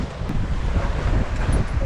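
Wind roars hard across the microphone aboard a sailboat meeting rough Atlantic swell against the current off the Pointe des Espagnols in Finistère, with a churning low rumble of sea and hull under constant gusting.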